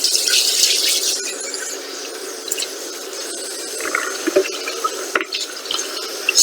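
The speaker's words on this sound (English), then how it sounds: "So, cold water," Cold tap water running steadily over salty, tender pickled cabbage leaves being rinsed for Macedonian sarma soup, a continuous close splashing with small drips and squeaks from handling, no talking.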